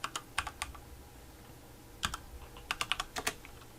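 Computer keyboard keys clack in quick bursts of several taps, a pause, then another flurry, close and fairly quiet, with no talking.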